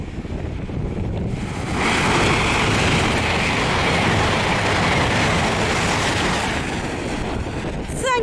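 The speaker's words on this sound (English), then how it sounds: "It's 1D11 and Azuma on a service to Leeds." An Azuma passenger train on a service to Leeds sweeps past the Grassthorpe Lane level crossing, a loud sustained roar that builds sharply after a quieter start and holds, mixed with heavy wind buffeting the microphone.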